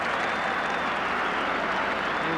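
Football crowd in a stadium applauds a quick break, a steady, broad wash of distant clapping with no voices above it.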